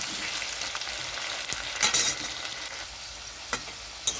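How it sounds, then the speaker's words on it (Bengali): Oil sizzles and hisses steadily as potatoes fry, with occasional sharp clicks and scrapes of stirring in the pan. "এখন আলুটা খুব ভালোভাবে ভেজে নিতে হবে।"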